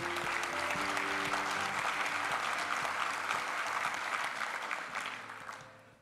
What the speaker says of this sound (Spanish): a Hamilton brindémosle un fuerte aplauso